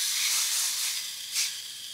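Vegetables pressed cut side down into a hot pan hiss with a steady, close searing sizzle that swells briefly near the end, with no talk.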